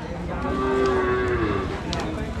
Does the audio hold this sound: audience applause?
no